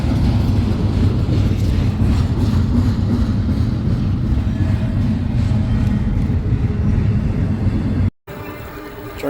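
A long train rumbles past at close range, a steady heavy roar of wheels and cars that cuts off abruptly near the end.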